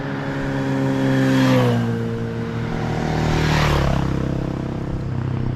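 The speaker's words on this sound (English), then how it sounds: "Motorcycles." Motorcycles passing by on a road during an outdoor walk, two loud engine swells rising and falling as each bike approaches and recedes, with a steady engine drone between them.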